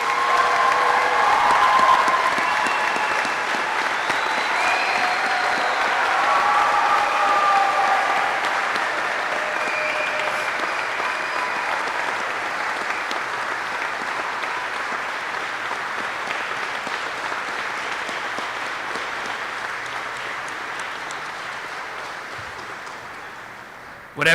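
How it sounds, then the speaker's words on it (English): Sustained audience applause at a U.S. Army flight school graduation ceremony, a dense, steady wash of clapping from a large crowd that starts loud and slowly fades over about twenty-four seconds, with scattered voices mixed in. "Please join me in a round of applause for the Army's newest aviation warfighters"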